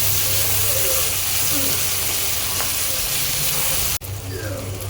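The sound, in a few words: sautéing finely chopped tomato in pan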